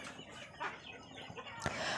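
Free-range village chickens roaming a house yard, soft scattered clucks and brief calls at close to middle distance, with one sharper squawk near the end over a quiet outdoor background.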